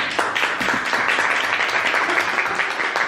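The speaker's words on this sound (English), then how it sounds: "Can we give a round of applause?" Guests at a vision board party break into a round of applause, a sustained, moderately loud patter of many hands clapping together in a room, with no talking over it.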